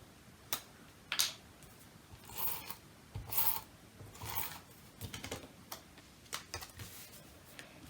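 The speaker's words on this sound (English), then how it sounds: "We're going to go ahead and use a tape runner." A tape runner lays adhesive strips onto paper for a papercraft leaf project, giving faint, sporadic clicks and short rasping bursts spaced irregularly over several quiet seconds.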